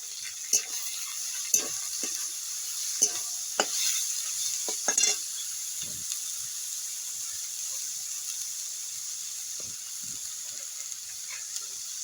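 Carrot, capsicum, tomato and cabbage for veg momo filling being stirred in a pan, with a faint steady sizzle and scattered scraping knocks of the spoon, no voices.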